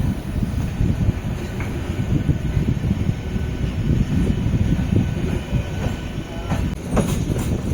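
A MEMU passenger train on the Chennai–Madurai line rumbles past close by, heavy low clatter of wheels on rails with occasional faint squeals, steady throughout.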